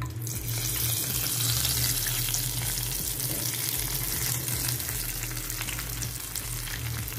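Dried chillies and curry leaves crackle in hot oil as the tempering is poured into a ripe mango curry, a steady loud sizzle with a watery rush running throughout, no voices.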